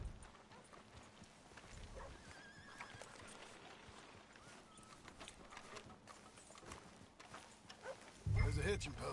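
Horse hooves clip-clop steadily in Red Dead Redemption 2, with a whinny and a louder burst near the end, while voices talk over the gameplay.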